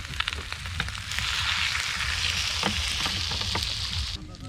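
Water poured into a hot pan of marinated chicken legs with eggplant at an outdoor picnic, a sudden rushing sizzle and hiss that holds steady for a few seconds, with brief clatters.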